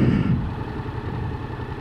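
A vehicle engine downshifts through the gears while driving slowly through a residential complex, a steady close low rumble with a brief louder surge at the start and no talk.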